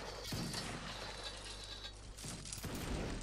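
Musket volley fired on command in Mount & Blade, a dense crackling burst of many shots at once, followed by further sharp rolling bangs and mechanical clatter, loud and fairly near.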